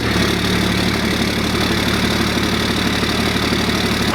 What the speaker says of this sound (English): Let's get our cold start in for the day.